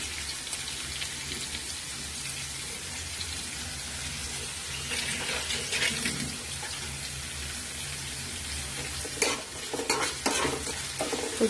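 Cabbage frying in a pan for a mixed vegetable curry, a constant crackling sizzle with occasional stirring scrapes that become louder and more frequent toward the end.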